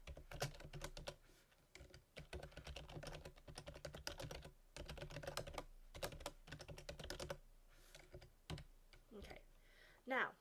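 Rapid clattering keystrokes on a computer keyboard while C code is typed, an uneven run of close, crisp taps with brief pauses, continuing throughout at low volume.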